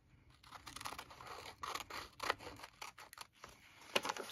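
Scissors cutting out freezer paper: a series of quiet, close snips and crisp paper rustles in irregular bursts, with a few sharper cuts standing out.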